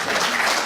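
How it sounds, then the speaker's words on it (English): A brief, dense wash of audience applause at a Glasgow Tech Fest talk, steady and fairly loud throughout. "Perhaps a round of applause first."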